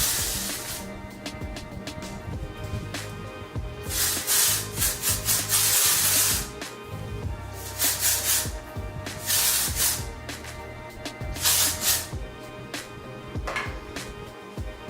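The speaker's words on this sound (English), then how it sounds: "So I like to spray it and then scrunch my hair" Bursts of hissing hairspray alternate with soft rubbing and crunching as hair is scrunched for volume, close and repeated over several seconds.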